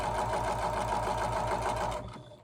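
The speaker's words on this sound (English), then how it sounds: "I'm not gonna run over needles because I'm not gonna ruin your sewing machine" A sewing machine runs steadily, stitching fabric for a dinette on a 1984 Chris-Craft Catalina 381 boat. The whirring motor and rapid needle rhythm stay loud and close for about two seconds, then wind down and stop.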